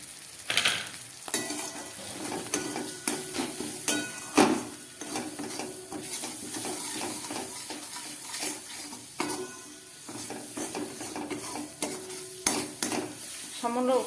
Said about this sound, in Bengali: সমস্ত মশলাগুলো আমার কষে গেল